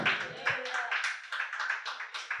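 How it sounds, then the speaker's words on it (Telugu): A church congregation at a Telugu Christian sermon claps loudly and continuously for a couple of seconds. "నమ్మిన వారు గట్టిగా చప్పట్లు కొట్టి దేవుని మేంపరచండి"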